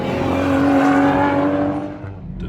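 A car speeds past a viewing point at the Nürburgring track. Its engine roars loud and close, then the pitch drops and it fades quickly into the distance.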